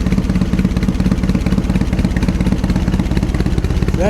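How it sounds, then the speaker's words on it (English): A vintage Triumph motorcycle engine idles from a cold start, its loud, close exhaust note thumping in a steady, fast, even rhythm throughout. "that's the cold exhaust note"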